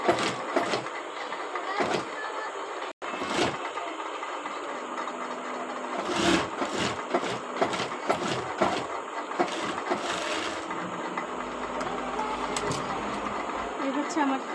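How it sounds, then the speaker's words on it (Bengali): A sewing machine stitches a seam on fabric for a dress collar, its motor whirring in bursts with brief pauses, close by while someone talks over it. "এই কাপড়টাতে আমি আরেকটা চাপ সেলাই দিয়ে নেব"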